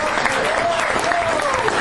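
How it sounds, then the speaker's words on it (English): Dense, continuous clapping from a convention audience at a Gen Con 2007 talk fills the whole moment, steady and fairly loud, with a voice faintly audible underneath. "Let's have a big round of applause for Joseph Goodman for running this thing."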